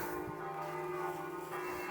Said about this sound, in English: it's the bell tower of the church. Is that how you call it? Bell tower? It's indicating that it's noon